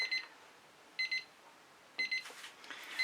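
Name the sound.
timer going off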